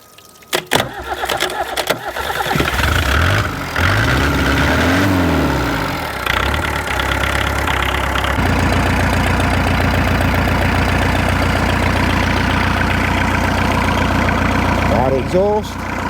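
A Thorneycroft BMC 1.8 marine diesel engine cranks and catches, then settles into a loud, steady rumbling idle that runs on without pause, close by.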